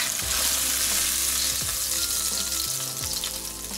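Salmon fillet sizzling steadily in sauce in a hot frying pan, a loud continuous crackle with occasional stirring or scraping bumps and no talk.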